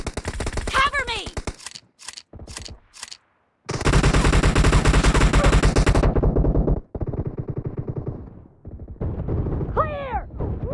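Rapid shotgun blasts from a first-person team shooter match in a warehouse map, arriving as loud repeated bursts with short gaps, then a long dense stretch of continuous firing, with brief game voice callouts at the start and end.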